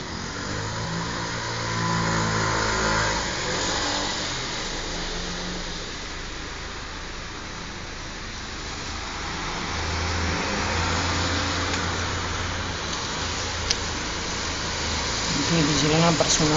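Cars passing on a wet, rainy street, a steady wash of tyre and engine noise that swells around the start and again near the end, with people talking over it.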